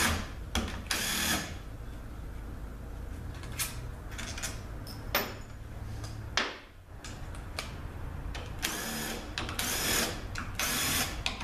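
A ratchet backing out the valve body bolts on a 6L80E automatic transmission, brisk clicking bursts that recur over a steady background hum in a workshop, close by.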